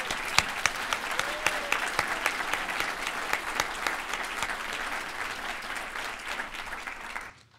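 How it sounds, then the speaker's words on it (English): Sustained audience applause for Tacoma Mayor Marilyn Strickland after her 2014 State of the City address, dense steady clapping from a large crowd that continues evenly for several seconds before cutting off abruptly. "Let's give her another round of applause"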